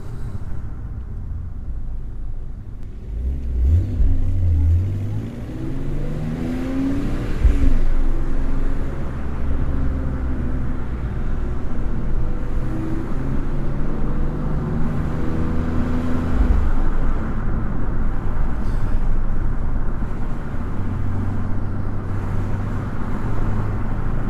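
A 2003 BMW E46 M3 CSL engine revs loud and close from the cabin, its pitch rising and falling through downshifts and gear changes, with a steady drone in between.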